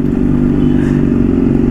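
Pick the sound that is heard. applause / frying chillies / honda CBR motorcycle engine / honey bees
honda CBR motorcycle engine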